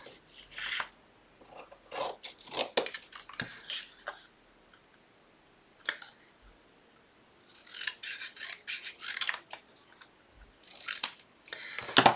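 Scissors snip through card stock in close, crisp bursts of rapid cuts, separated by short pauses, with no talking over them.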